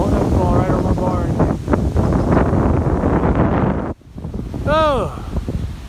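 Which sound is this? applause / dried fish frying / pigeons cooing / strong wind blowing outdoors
strong wind blowing outdoors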